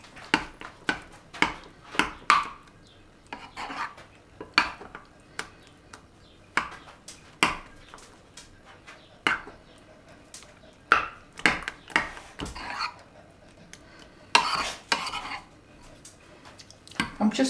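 A spoon mixes sugar into a mixture in a bowl, producing a run of sharp, irregular clinks and taps against the bowl with quiet gaps between strokes.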